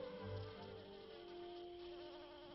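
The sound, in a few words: bees buzzing at an orchid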